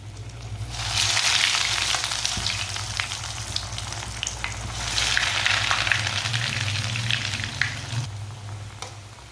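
Bread kebab snacks frying in very hot oil, a loud, dense sizzle that swells as the pieces go in, dips, then surges again, running continuously over a low stove hum with no voices.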